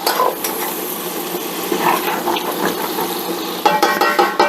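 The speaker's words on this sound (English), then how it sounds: "Look at how hot that pan is, and that butter still isn't fully melted" Butter sizzling in a very hot pan while making chicken étouffée, a continuous crackling fry with clinks of cookware and a louder burst of sizzle near the end.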